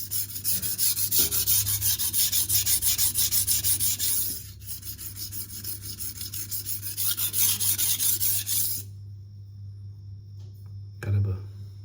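Steady rhythmic rasping of a knife blade stroked across a Venev resin-bonded diamond stone (F240 and F400 grits), loud and continuous in long runs, then pausing before a brief final scrape, with a low hum underneath.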